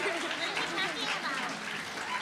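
A convention panel audience gives a quick round of applause, with steady crowd clapping mixed with chatter and light laughter from people in the room.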